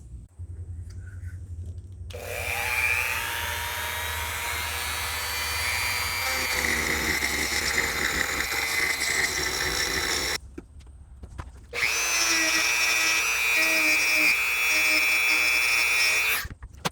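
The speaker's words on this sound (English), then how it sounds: "I'm going to use a Dremel and just kind of mill this out just a little bit." High-pitched whine of a Dremel rotary tool milling out a door's deadbolt hole for a Wyze smart deadbolt, loud and close in two long runs with a short pause between them.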